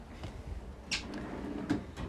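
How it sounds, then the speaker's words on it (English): A drawer being opened and shut during a search through a workspace: a couple of short wooden thumps and sliding knocks at moderate distance, separated by quiet shuffling. "Not in there, like in this drawer."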